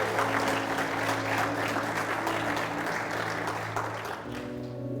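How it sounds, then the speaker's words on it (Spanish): Congregation applauding during a Spanish-language church service, thick continuous clapping with a sustained musical tone held beneath, fading slightly toward the close. "¿Cuántos aplauden a Cristo?"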